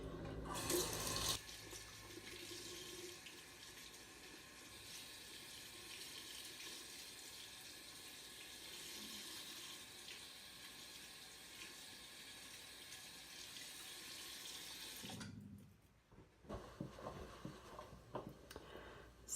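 A tap runs steadily into a sink while purple toner is rinsed out of brassy hair, a faint even gush that lasts about fifteen seconds before it cuts off, followed by quiet handling and drips.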